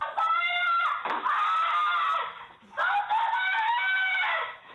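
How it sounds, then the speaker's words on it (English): A woman's piercing, sustained screams recorded during a violent attack at a massage therapy business, two long harsh wailing bursts separated by a brief gasp, loud and close with no other voices. "the bone-chilling screams as this massage therapist pleads for her life"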